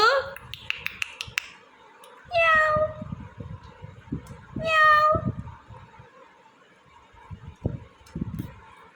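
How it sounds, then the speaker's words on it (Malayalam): A pet cat meows in a few drawn-out, rising calls, fairly close, with people talking and household clatter around it. "പൂച്ചയുണ്ട്"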